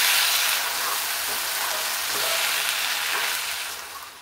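Peas with turmeric and coriander powder stirred in a hot pan, a steady close sizzle and frying hiss with soft scraping of the stirring throughout, no voices.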